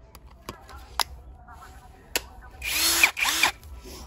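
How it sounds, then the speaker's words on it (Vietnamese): A Navara brushless cordless drill whirs up in two short, loud bursts near the end, after a few clicks and handling knocks, with a high motor whine over the motor hum. "anh em nghe cái tiếng động cơ không than nó khác hẳn luôn."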